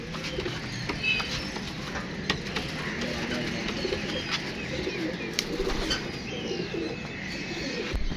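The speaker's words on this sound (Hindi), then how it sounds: "5 कबूतर है दोस्तों, 3 कबूतर 2 मादियाँ।" Soft, low pigeon coos repeat through steady outdoor ambience, with a few faint chirps and clicks scattered over it.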